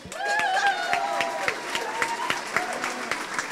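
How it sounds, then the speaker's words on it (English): Audience applause at a high school prom fashion show, a steady wash of clapping hands with sharp individual claps standing out and a few whistles and cheers rising over it throughout. "Let's have another round of applause for Jack and Vincent."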